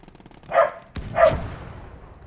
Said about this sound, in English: My dogs are having a little war on the stairs there.